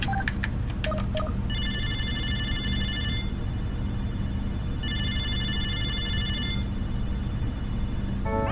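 Video phone ringing in the Snatcher video game: a few quick electronic beeps, then two long bursts of a bright synthesized ring separated by a pause, over a steady low background hum.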